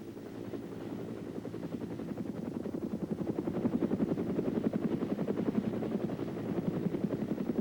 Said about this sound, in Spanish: los helicópteros pueden aterrizar para dejar su complemento de tropas